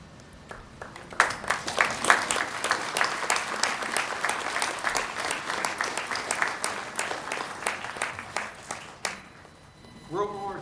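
A crowd at a Veterans Day gathering applauds World War II veterans, building into loud, irregular clapping that holds steady for several seconds, then fades as a voice begins speaking near the end.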